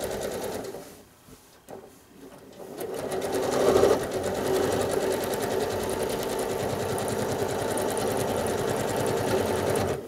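A sewing machine fitted with a walking foot runs fast and steady while stitching appliques onto a quilt, a continuous close mechanical whir after a brief stop-start at the beginning.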